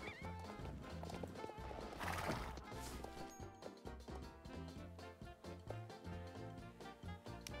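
Horse whinny and clip-clopping hooves in the online horse game Star Stable Online, loud over a busy layer of game music, with a hoofbeat rhythm running through most of the stretch.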